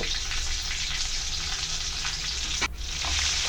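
Onion, garlic, ginger and green chillies fry in hot oil with a loud, close, continuous sizzle, steady apart from a brief stirring clatter near the end, no speech.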